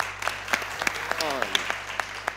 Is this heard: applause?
yes